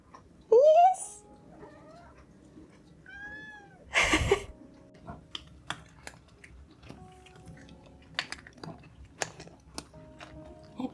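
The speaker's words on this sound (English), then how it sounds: "Happy cat munchy sounds, and probably also the dishwasher in the background." A cat crunches dry food in short, irregular bites and meows a few times at the start. A person speaks briefly, and a dishwasher hums faintly in the background.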